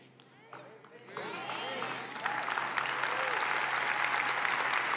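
A church congregation bursts into applause during a Spanish-language sermon, the clapping starting thin and swelling into a dense, steady wash that stays loud to the end, with a voice audible over it early on.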